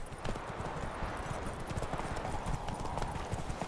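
Horse hooves galloping across ground in The Witcher 3 during a race, a quick continuous clip-clop that runs through the whole stretch at close range, fairly soft, with no talk over it.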